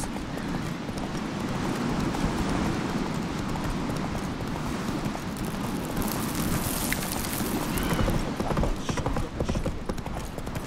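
Roach the horse gallops in The Witcher 3, a fast continuous drumming of hooves mixed with a dense, rain-like wash of ambient noise, loud and steady throughout.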